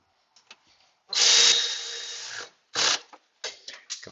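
A Milwaukee 1/4-inch battery ratchet whirs in a longer burst and then several short pulses, close and clear, during AC compressor work on a 2014 Nissan Frontier.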